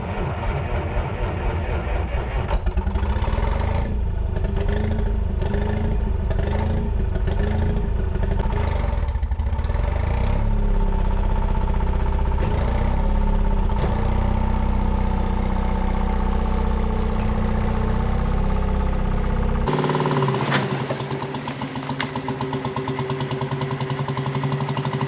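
A Detroit Diesel 2-71 two-cylinder engine runs in a parked White Road Xpeditor truck, a loud, steady, close low rumble with rhythmic clatter and pulsing, shifting sharply in tone near the end.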